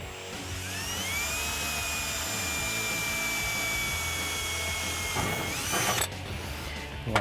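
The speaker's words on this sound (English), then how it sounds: "We're going to take our drill and our 3/32 drill bit." A cordless drill with a 3/32 bit drills a pilot hole while a fender flare is fitted to a 2014-2018 Silverado 1500, giving a steady high whine that dips as it bites and then stops.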